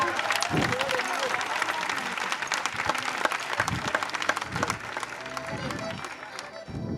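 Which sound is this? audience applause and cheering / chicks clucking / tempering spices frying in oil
audience applause and cheering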